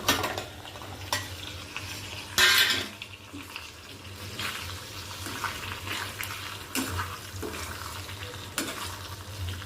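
Potatoes for batata kachrya cooking in a pan with a lid on, giving a soft steady hiss and sizzle with a few brief clatters and one louder burst of noise near the start, and no talking.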